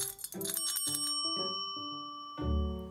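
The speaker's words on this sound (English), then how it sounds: "If you ring the jackpot bell, you'll get a lot." Cats ringing a small bell, several bright metallic dings in an uneven sequence, each ringing out and decaying, followed by a louder thump-like strike near the end; no talking.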